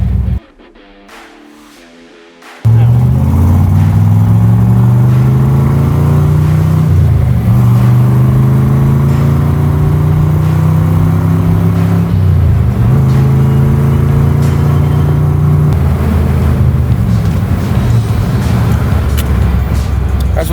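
A 1965 Chevrolet Corvette L79 convertible starts up after a brief quiet moment and drives, its V8 engine rumbling loud and close, rising and falling through several gear changes.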